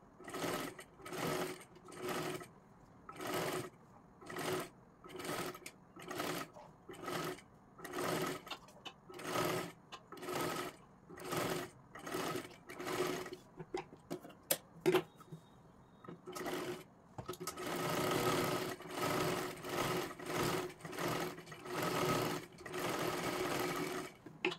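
A sewing machine stitches lace onto a three-piece princess blouse, running in a steady series of short bursts with brief pauses between them, then one longer continuous run of stitching. The machine is close and clear, and no one talks.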